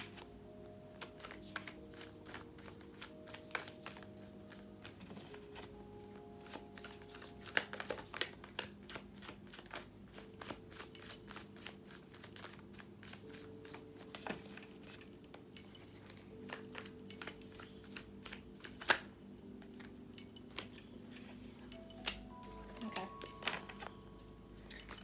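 Tarot cards being shuffled and handled, a steady run of soft riffling flutters and light slaps, close by, with a faint tonal music bed underneath.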